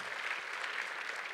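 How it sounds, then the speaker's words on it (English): Church congregation clapping together at a sermon service, a brief, steady wash of many hands applauding at moderate volume. "Let's give them a round of applause."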